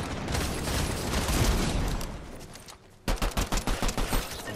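Gunfire in the video game Fortnite: a dense, loud burst of overlapping shots first, then after a brief dip a rapid rhythmic string of about ten close, punchy shots.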